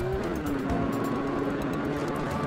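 A car drives along a track in BeamNG.drive, its engine a steady mid-level drone with tonal whine and road rumble running continuously, no voices.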